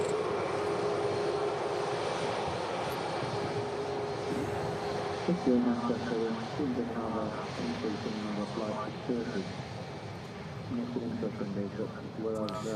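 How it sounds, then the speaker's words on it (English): Corendon Boeing 737-800 arriving at Manchester Airport, a broad steady jet engine roar sustained throughout, with a person talking over it in the middle and near the end. "next we've got a Corendon aircraft in from Antalya. 737-800."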